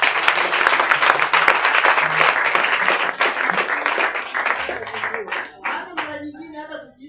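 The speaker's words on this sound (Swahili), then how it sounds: "Situjipigie makofi" Church congregation applauding, a loud, dense burst of clapping from many hands that thins out toward the end as a voice begins speaking.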